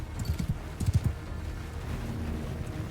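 Horses gallop in a Mount & Blade II Bannerlord battle, a cluster of hoofbeats thudding in quick bursts up front before fading into a low windy background rumble.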